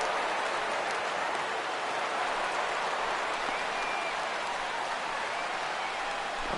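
Baseball stadium crowd in a video game, over 39,000 fans on their feet, a dense, even roar of cheering and applause like steady rain, sustained with no break.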